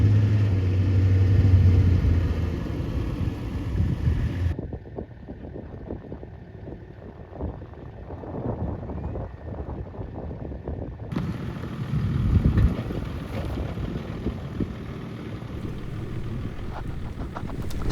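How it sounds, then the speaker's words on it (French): A vehicle stuck in soft desert sand near El Goléa, Algeria, gives off a steady low engine rumble with wind buffeting the microphone, and the tone shifts partway through as the effort changes. "Sable mou, véhicule enlisé, mais c'est aussi ça le désert."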